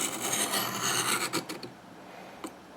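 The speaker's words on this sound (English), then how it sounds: "we'll go ahead and hit it with the fine side a couple of times." Knife blade drawn across the fine side of a Work Sharp guided field sharpener, a few close raspy strokes followed by short scraping touches, then quieter.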